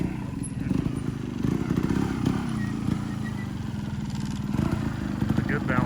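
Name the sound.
SSR190 two-stroke pit bike engine running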